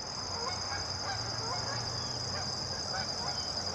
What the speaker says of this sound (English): Canadian geese this morning.